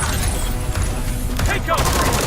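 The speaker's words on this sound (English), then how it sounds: "Yeah, I like the electricity gun." An electricity gun fires in a shooter video game, a rapid crackling burst of shots with sharp zaps, close and loud amid game effects and a brief voice.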